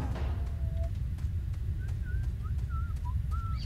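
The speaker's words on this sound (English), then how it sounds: "Who the hell is whistling?" Faint tonal whistling drifts through a game lab in S.T.A.L.K.E.R. Lost Alpha. Short wavering notes repeat over a constant low hum, with ticking clicks in the background.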